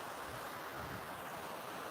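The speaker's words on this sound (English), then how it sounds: "It's leaving behind a waterfall." Steady, rushing water pours from a waterfall freshly exposed where a big falling tree stripped the soil off the bedrock on a woodland walk. It is a continuous broadband roar with no break, and wind blows across the microphone.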